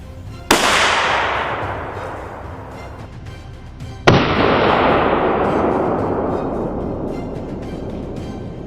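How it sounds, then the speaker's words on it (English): Two sharp gunshots on a wild boar hunt, each a loud close crack followed by a long decaying rolling echo. "One bullet was all it took to bring the beast down."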